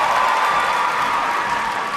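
Steady crowd murmur fills an arena at a women's artistic gymnastics all-around competition at the 2019 Universiade, a dense continuous wash of many voices with faint scattered cheering, no single voice standing out.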